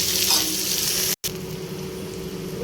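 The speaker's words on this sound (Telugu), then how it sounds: "పచ్చిమిర్చి వేగే వేయించుకోవాలి" Green chillies frying in a pan for a moringa-leaf chutney, a loud continuous close-up sizzle with a brief sudden dropout partway through before the frying sound resumes.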